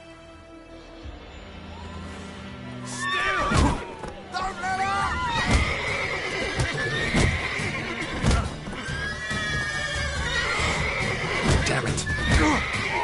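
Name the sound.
horses neighing in the video game The Witcher III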